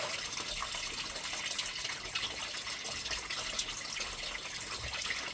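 Water runs continuously through a small gold clean-up sluice processing pay dirt, a steady close splashing gush with scattered drips and trickles at an even level.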